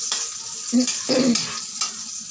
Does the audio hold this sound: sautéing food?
yes